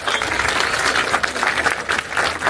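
A crowd gathered at a museum event in Turkey applauds, a brief, loud, steady wave of clapping from many people with no talk over it.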